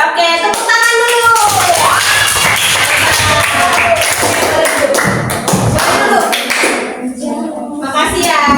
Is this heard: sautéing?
no